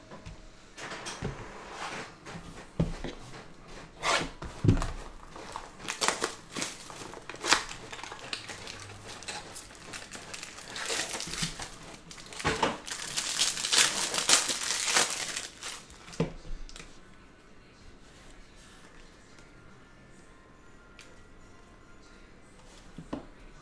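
NBA trading card packs are ripped open, with crinkling foil and sharp tearing bursts in quick clusters, then quieter shuffling of cards near the end.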